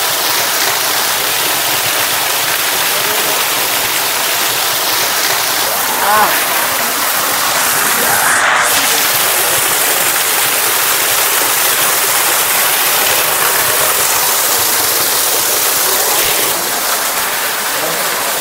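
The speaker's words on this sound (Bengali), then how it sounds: "এই বর্ষাকালে এখানটা থাকে, এরকম ঝর্ণা দিয়ে জলটা পড়ে" A monsoon waterfall near caves in Cherrapunji, Meghalaya, roars as a loud, unbroken rush of falling water that fills the whole scene without pause.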